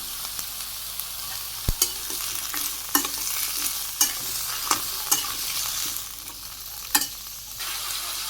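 Vegetables fry in a pan for a thin vegetable khichuri in a Bangladeshi village kitchen, a steady hiss broken by sharp spoon scrapes and clinks about once a second, close and alone with no talk.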